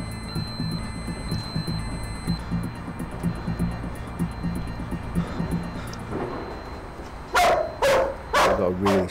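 A police dog barks loudly in a quick run of sharp, close barks near the end, following a stretch of steady background noise.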